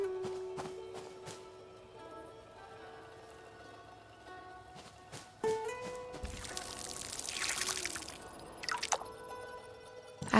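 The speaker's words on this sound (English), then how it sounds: "Then I watered the beet seeds." Water poured onto beet seeds in the cozy horror game Fractured Blooms, a soft splashing pour that swells in the middle and trickles off, with scattered small game taps and clicks around it.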